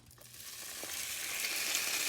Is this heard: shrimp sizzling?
yes